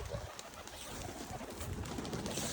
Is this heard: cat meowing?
no